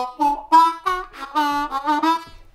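Harmonica playing the main riff of a song, a string of short, punchy reedy notes in a syncopated rhythm, close and clear with no talking.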